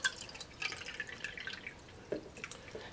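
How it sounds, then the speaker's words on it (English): Four cups of water poured into an Oster Versa blender jar, heard as faint, quiet splashing and dripping with scattered small droplet taps throughout. "putting the 4 cups of water into the Osterversa because it's got measurements on the side"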